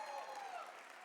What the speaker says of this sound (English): How about a round of applause for that, right?